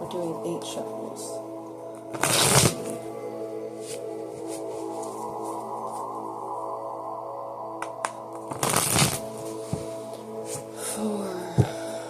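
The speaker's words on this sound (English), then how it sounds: "We're doing 8 shuffles." Playing cards riffle-shuffled in several quick bursts, two loud crackling riffles standing out with softer card handling between, close by over a steady low hum.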